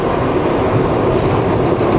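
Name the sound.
voice imitating a train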